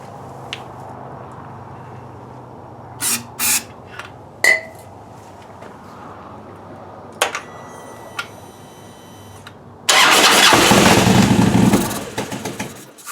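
A Harley Road King engine with a broken fuel line, fed starting fluid, fires and runs loudly for a couple of seconds before dying, after a few scattered clanks in a quiet garage.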